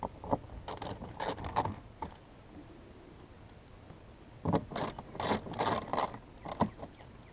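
Screws being driven to mount a Lexus IS300 dash panel: two clusters of short mechanical whirring, ratcheting bursts, close by, separated by a quiet pause, with no talking.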